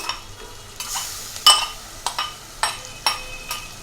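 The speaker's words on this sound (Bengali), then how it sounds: "এখন মাছটা ভেজে নিব হ্যাঁ মাছটা দিয়ে দিই" Fish frying in a pan gives a low sizzle under a string of sharp scraping and clinking strokes from a utensil against the pan, close and fairly loud, with no talking.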